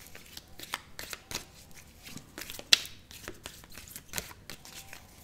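A deck of oracle cards is shuffled by hand at close range, with a run of crisp riffling flicks and a few sharp card snaps, separated by brief pauses.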